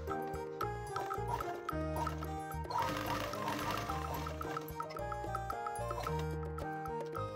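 A sewing machine stitches the lining of a handmade coin purse near the zipper in a short, rapid mechanical run, heard under steady background music.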